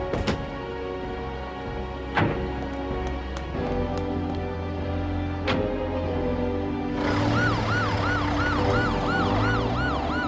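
Ambulance siren in a French dub of the 1999 Hunter x Hunter anime, a steady wail over music that swells into a louder, clearly rising and falling siren in the last few seconds.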